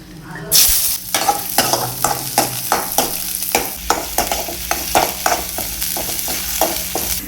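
Tempering crackles and fries in hot oil for a village-style mutton trotter soup, a dense sizzle broken by repeated sharp scraping strokes of a spoon against the pan at a fairly regular rhythm.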